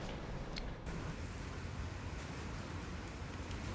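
Rain falls in a steady, dense hiss of drops, continuous and even, with no voices over it.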